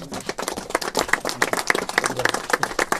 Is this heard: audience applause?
yes